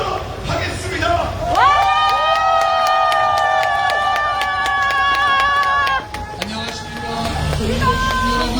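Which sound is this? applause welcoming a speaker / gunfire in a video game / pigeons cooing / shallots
applause welcoming a speaker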